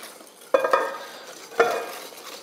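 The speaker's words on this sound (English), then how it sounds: "is slowly whisk the chocolate cream ganache into our egg yolk sugar mixture." A whisk scrapes through chocolate cream ganache being folded into an egg yolk and sugar mixture in a bowl: two distinct, close metallic strokes with a brief ring, separated by a quiet pause.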